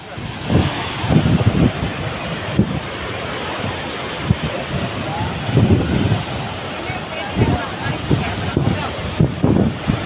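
Gaganachukki waterfall gives a constant broad roar outdoors, heavily buffeted by gusts of wind against the microphone in loud, uneven bursts.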